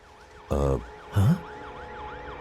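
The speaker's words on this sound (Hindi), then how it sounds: "यहाँ पर एम्बुलेंस आ गई है।" An ambulance siren wails in a steady, repeating rise-and-fall pattern at moderate distance, interrupted by two short, loud, blaring horn blasts early on.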